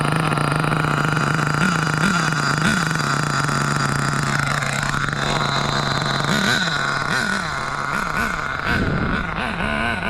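An HPI RS4 Big Block RC car's nitro engine revving nearby, a loud buzzy whine holding steady, then repeated sharp throttle blips rising and falling toward the end.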